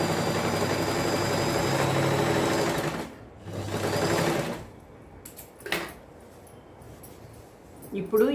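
A sewing machine stitching a patiala salwar, a loud close mechanical whir running for about three seconds, stopping, then a second shorter burst, followed by quiet handling clicks while someone talks.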